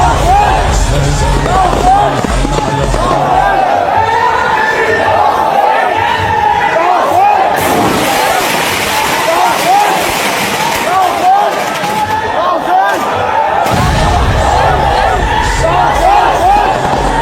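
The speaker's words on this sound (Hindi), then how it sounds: "चारों तरफ आप लोग देख रहे हैं भीड़ लोगों की" A large crowd at a Muharram procession, just after a van explosion, makes a dense, loud, continuous roar of shouting voices and babble. Cries swell and fade throughout, with a sharp surge of noise partway through.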